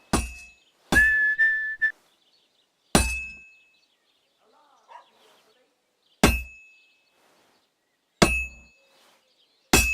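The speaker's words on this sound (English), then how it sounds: "Now take the hammer and try hitting it a few times." Sharp metallic clangs as a hammer strikes a sword on an anvil in the blacksmithing of Kingdom Come: Deliverance 2. About five separate ringing hits are spaced a few seconds apart, and a brief whistling tone follows the first strike.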